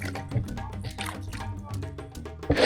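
Papaya being rinsed with a small amount of water, giving close, wet dripping and squishing sounds with splashes in a short, busy burst.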